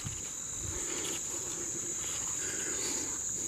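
Grasshoppers chirp steadily in a marsh, a dense, continuous high insect trill running unbroken and fairly close throughout, with faint low rustling beneath.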